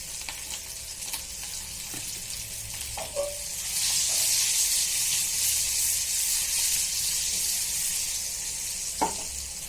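Masala potatoes frying in a pan with salt added, a steady sizzle that swells louder partway through, with a few soft clicks of a utensil against the pan.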